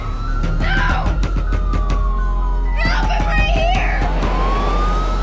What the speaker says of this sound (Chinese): 突然不远处响起了警笛声